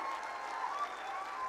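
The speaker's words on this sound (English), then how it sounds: "Can we have louder round of applause meeting the vibrancy of our Honorable Minister," Audience applause at the SUFALAM 2025 food processing startup event at NIFTEM-K, a steady wash of many hands clapping throughout, loud and close with no pauses.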